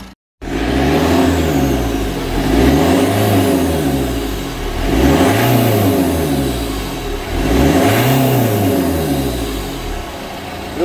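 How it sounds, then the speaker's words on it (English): Citroën Berlingo engine with poor running and a clogged EGR system, revved hard four times in a row, each rise and fall swelling loud and near with a steady mechanical roar in between. "rev the engine, it's sucking all that straight through the engine and it's running away on it"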